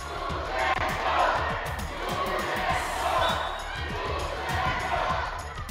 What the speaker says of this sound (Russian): Болельщики и родители яростно поддерживали юных футболистов.